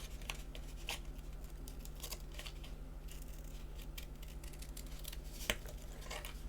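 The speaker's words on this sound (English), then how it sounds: "just give that a trim with my scissors" Scissors snip and trim the edge of a paper sketch card in a series of quiet, close cuts with soft paper rustling and no voices.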